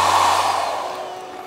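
A hair dryer runs close and loud as a continuous airy whoosh with a low motor hum, easing slightly softer over the short span, with no talking.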